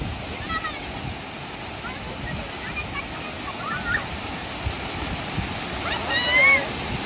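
A waterfall near villages around Araku gives a steady, broad rush of flowing water throughout, with people talking and calling out faintly over it.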